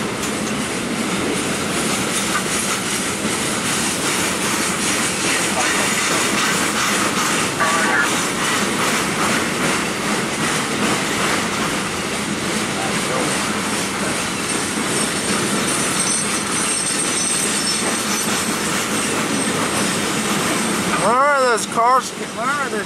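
A train rumbles past close by, wheels clattering rhythmically on the rails for a long stretch, with a brief voice near the end.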